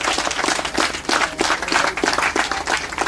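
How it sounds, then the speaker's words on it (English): A crowd at a Jamaican political gathering gives a round of applause for Mr. Shaw, a Member of Parliament, with close, lively clapping in uneven bursts and no speech over it. "Let's give Mr. Shaw a round of applause."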